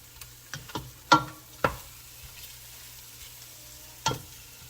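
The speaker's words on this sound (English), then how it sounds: "I'm gonna stir this more and less about 3-4 minutes" A pot of bean stew with linguica and pork is stirred, giving a handful of distinct scraping knocks against a low steady simmer, close and without voices.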